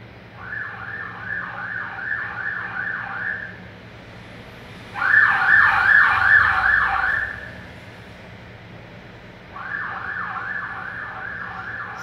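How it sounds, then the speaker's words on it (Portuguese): Siren on a night watchman's motorbike out on a residential street, sounding in three warbling bursts separated by pauses, the middle burst louder and nearer, over a low background hum. "Tem uma sirene aqui no carro, na moto,"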